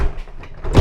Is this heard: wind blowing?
no